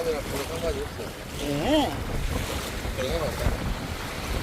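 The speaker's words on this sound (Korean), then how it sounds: "아, 바람 불면 더 세죠 파도가." Wind buffets the microphone over the steady rush of sea waves breaking at Dadaepo beach in Busan, while people talk nearby throughout.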